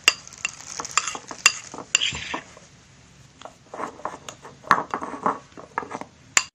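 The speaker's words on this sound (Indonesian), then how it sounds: "Terus kita aduk hingga kalis." A spoon or spatula stirs thick fishing bait dough in a bowl until it turns smooth, giving off repeated scraping and clacking strokes in irregular bursts, close and moderately loud, with no talking.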